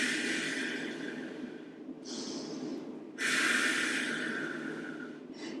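Two big breaths during a full-body stretching flow, each a long, close, airy inhale and exhale with a sharp rushing onset, the second louder and fuller than the first.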